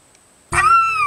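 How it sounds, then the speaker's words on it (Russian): After near silence, a cat lets out a single loud, close meow that rises and slowly falls. "Говорим, какой-то дикий кот."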